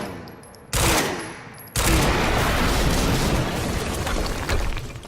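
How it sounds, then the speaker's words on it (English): A burst of gunfire and a heavy explosion boom out in the Quantum Break video game, two sudden loud blasts followed by a long rumbling roar with rapid crackling shots running underneath. "HQ, we just heard an explosion near the harvesting perimeter."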